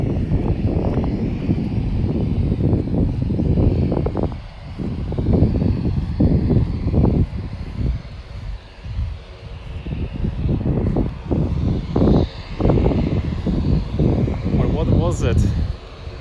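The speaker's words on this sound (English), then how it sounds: "Airplane has landed." Airliner cabin after touchdown in Japan, a steady low engine and air-system drone running throughout beneath frequent nearby talk as passengers prepare to deboard.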